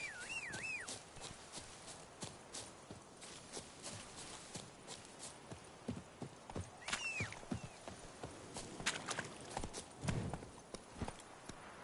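Roach, the horse in Witcher 3: Blood and Wine, walks with steady clip-clop hoofbeats among game ambience, sharp bird whistles above, and hooves growing busier and louder toward the end.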